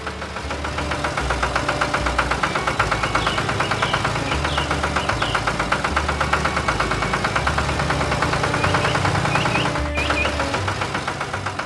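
A tractor engine runs steadily on a farm, a loud, continuous knocking diesel chug with an even rhythm and no voices, holding at a constant level throughout.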